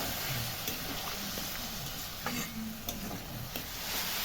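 Fried potatoes cooking in a pan with a little water added, for a Bengali mocha chingri dish, giving a soft, continuous sizzle with occasional light clicks and stirring taps.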